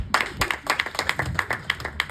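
A small comedy-show audience claps in answer to a question, a brief patter of scattered, fairly close claps in an uneven rhythm.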